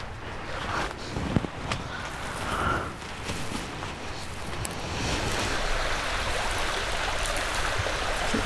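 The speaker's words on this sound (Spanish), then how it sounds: "Suena así nomás, va como un riachuelo, chiquitito." A small stream flows in a steady, continuous wash of water, moderately loud and close, with a few faint knocks near the start and no voices.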